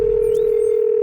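A steady, unbroken electronic tone holds at one pitch for the full second, loud and alone, like a video game phone line ringing or waiting to connect.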